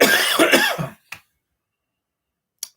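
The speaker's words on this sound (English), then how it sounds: "Oh, I apologize for the cough." A person coughs several times in a quick dry burst from a dry throat, close and loud, followed by a short pause, then one more brief cough and a fainter one after a longer silence.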